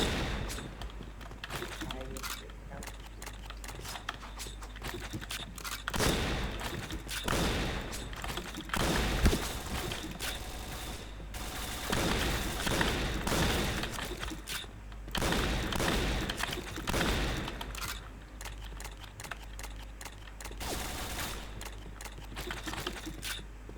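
Rapid gunfire from the shooting game Point Blank rattles in dense, continuous bursts at close range, with a person talking excitedly over the shots.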